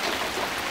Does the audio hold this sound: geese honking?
no